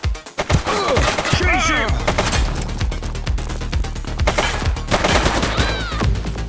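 Rapid gunfire crackles through a shootout in The Precinct, bursts of close, loud shots stacking into a near-continuous barrage while voices shout over the chaos.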